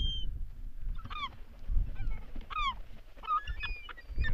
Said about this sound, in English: These birds are cleaning out the fish,